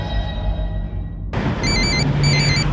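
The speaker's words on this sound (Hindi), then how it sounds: "किसी का फोन आ रहा है" A phone ringtone starts suddenly, a repeating electronic trill pattern, fairly loud over a humming background.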